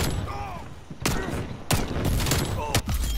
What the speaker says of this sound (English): that's a shotgun, bro.